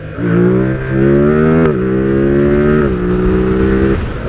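A Yamaha MT motorcycle, an MT-07 or MT-09, revs hard during a wheelie, its loud, close engine note climbing in pitch through two sustained pulls, each dipping briefly before rising again.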